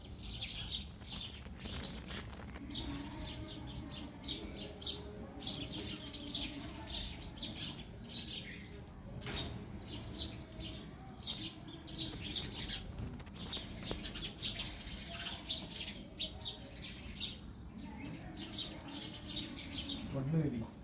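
House sparrows chirp busily and continuously, many birds calling at once close by in repeated bright tweets, with occasional wing flutters, squawks and low background noise underneath.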